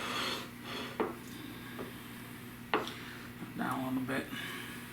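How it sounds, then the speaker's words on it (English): A steak knife sawing through a cooked ribeye on a plate, giving a few scraping strokes and sharp clinks of metal on the dish, close and moderately loud over a steady kitchen hum. "Now let's cut into the steak,"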